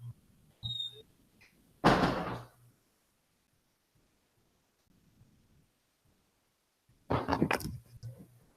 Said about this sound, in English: I gotta close my door